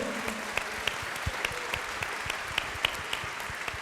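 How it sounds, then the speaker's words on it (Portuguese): A congregation at a church gathering on leadership claps together in praise, a steady, fairly loud wash of many hands with periodic sharper claps and low thumps beneath. "Vamos aplaudir ao Senhor"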